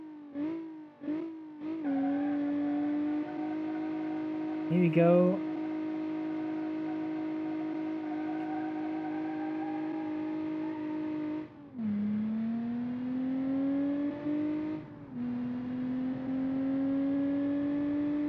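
The Monaco V12 Super car in a racing video game starts up with a few short revs, then holds a long steady engine drone, dips as it shifts and climbs again, loud and close with a brief spoken line at the start.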